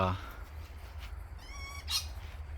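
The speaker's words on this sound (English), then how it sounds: "There's the cheeky parrots next door" A flock of parrots, around forty of them, raids a neighbour's apple tree in a garden, letting out a short burst of shrill, harmonic squawks and chirps over steady low background rumble.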